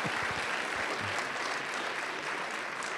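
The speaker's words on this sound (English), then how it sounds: "please just join me again in applauding our two distinguished speakers and me." Steady applause from a conference audience honoring two speakers after TED-style talks, continuous and fairly soft throughout, with no speech over it.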